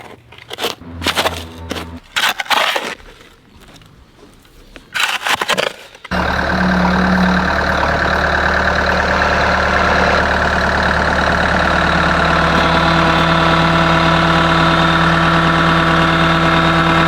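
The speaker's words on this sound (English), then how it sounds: "Took a little bit, but we got it with the tractor." A tractor engine runs while a garden is being moved, settling into a loud, steady, close idle after a few scattered knocks and bumps at the start, with no talking over it.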